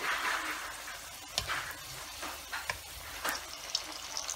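Onion fritters (piyaju) fry in hot oil for an iftar plate, giving a steady close sizzle with a few sharper crackles and pops, no talk.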